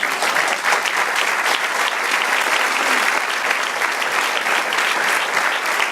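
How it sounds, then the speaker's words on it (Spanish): A church congregation bursts into steady, dense applause, close and loud, sustaining evenly for the full stretch without any voices rising above it. "De un aplauso, Señor."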